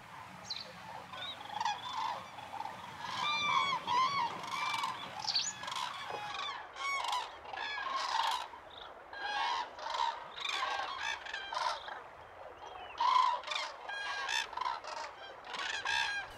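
Common cranes circle over a shoal looking for a place to land, a large flock giving continuous overlapping trumpeting calls, loud and near with more distant birds behind.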